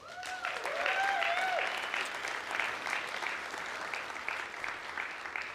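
A church congregation applauds warmly, a full steady clapping that rises then slowly thins, with a few high whistles and cheers at the start.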